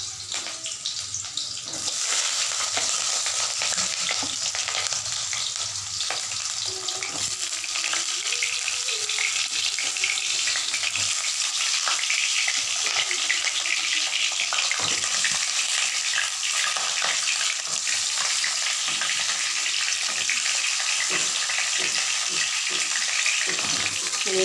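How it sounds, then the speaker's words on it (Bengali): Pieces of pointed gourd fry in oil in a wok, giving a continuous dense hiss and crackle that holds steady throughout, with a voice faintly audible underneath at times. "এবারে পটলটা ভাজতে দিলাম।"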